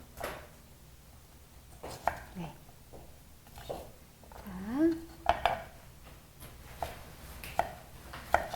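A knife cuts an autumn radish into 0.7 cm pieces on a board for baby food, giving scattered soft chopping taps and clinks of utensils under ongoing talk.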